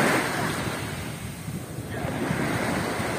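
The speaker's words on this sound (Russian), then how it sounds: "Видите, вот волна так плеснет" Sea waves wash and splash on a shore, a close rushing surge with wind buffeting the microphone, briefly easing then swelling again.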